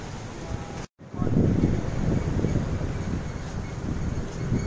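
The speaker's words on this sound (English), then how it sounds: "so windy today." Wind buffets the microphone at Patong Beach, Phuket, a steady low rumble after a brief dropout near the start, with a faint wash of surf underneath.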